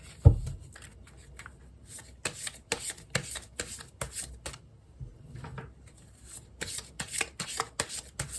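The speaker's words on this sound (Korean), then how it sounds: "조언 카드를 한 장 뽑아보도록" Tarot cards are shuffled by hand in quick repeated riffling bursts with short pauses between them, a dry papery rustle close up and fairly quiet, with no talking.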